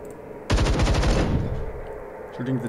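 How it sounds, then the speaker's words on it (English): A loud, rapid machine-gun burst fired at a turret in the turn-based strategy game Templar Battleforce lasts about a second, its echo decays, and a brief voice follows. "Shooting the turret."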